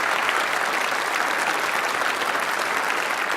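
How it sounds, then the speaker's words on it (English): An auditorium audience gives steady, full applause for workshop presenters at a talk, a dense sustained wash of clapping that stays loud throughout with no voices over it. "Let's hear some applause for them."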